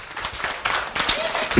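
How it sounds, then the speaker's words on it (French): An audience at a school event claps for a performer, bursts of hand claps rising and falling unevenly over a short stretch, fairly close and moderately loud. "Alors, on peut l'applaudir bien fort."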